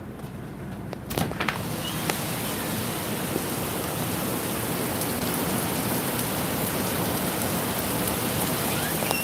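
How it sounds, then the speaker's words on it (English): Heavy rain pouring down just outside an open hotel door in Tennessee, a dense, continuous roaring hiss that fills the whole clip at a steady loud level, with no voices. "It is pouring down rain like I wouldn't believe"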